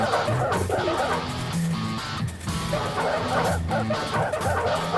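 Cartoonish video game dogs bark and yip repeatedly in quick bursts during a between-quarters sports game interlude, layered over busy game music and effects, loud and continuous throughout.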